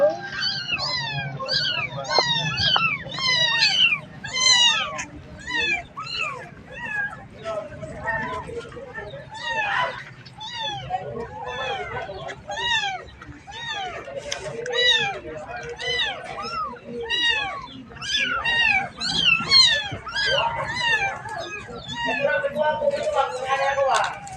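A black cat meows again and again in a quick, continuous run of loud, close cries, with some faint background chatter and scuffling beneath.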